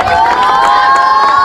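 A crowd at a beach football tournament final cheering and shouting for the team captains, a continuous loud wash of voices with whistles or high tones over it and little clapping.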